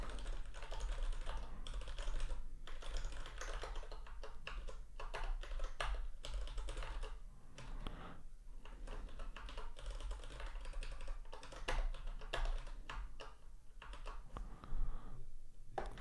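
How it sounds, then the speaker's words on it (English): Fast, continuous typing on a computer keyboard while working on PHP code, close and steady throughout with dense clicking keystrokes and no talking. "Typing is hard with taped up fingers."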